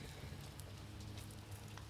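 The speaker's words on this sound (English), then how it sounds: "I don't know if you can hear that whoosh of air, kind of like a jet engine far away." Steady low roar of air rushing through a barbecue smoker fire while spare ribs cook, a faint, distant whoosh like a far-off jet engine with soft crackling over it.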